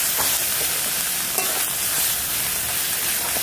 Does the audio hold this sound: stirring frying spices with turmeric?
yes